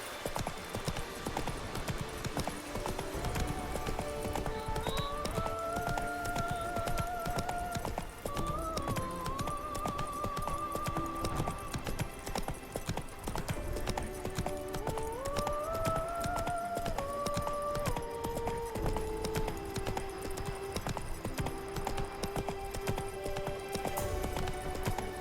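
Roach, the horse in The Witcher 3, gallops with quick, even hoofbeats that run through the whole stretch alongside game music, close and steady with no talk.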